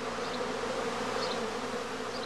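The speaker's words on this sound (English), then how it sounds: "the humming of the emerging bees is a good indicator of the progress of swarming" Honey bees swarm out of a heather skep, a steady, dense buzzing hum that holds evenly throughout at a soft level, with no voices.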